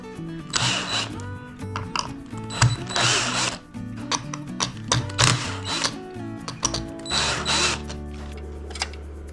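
Hand tool clicking and rattling while a bridge connector is removed from between two 24-volt batteries wired in series, a DIY battery setup; several short bursts of ratcheting and metallic clatter, close and fairly loud, no talk.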